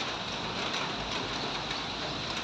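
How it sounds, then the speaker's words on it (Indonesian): Steady rain falling, a dense even hiss with no voices, constant and moderately loud throughout. "Masih hujan tetap guys."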